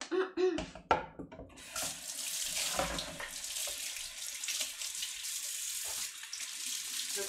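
Tap water runs steadily into a sink while cooking utensils are rinsed in a home kitchen, after a few brief clanks of utensils at the start; the flow is close and continuous, with no talking.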